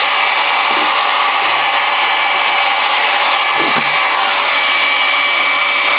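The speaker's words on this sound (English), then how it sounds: "Just going to let it heat up for a minute. And then I'll heat gun the back." Heat gun running on its high setting to reflow a circuit board, a steady loud broadband blowing roar that holds evenly from start to end with no talk.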